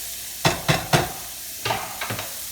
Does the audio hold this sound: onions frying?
yes